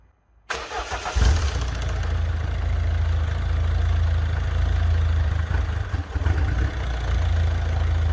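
A DV6 diesel engine running with no exhaust fitted cranks and catches, then runs with a harsh, loud, uneven spluttering clatter, close up and continuous, with a brief dip partway through.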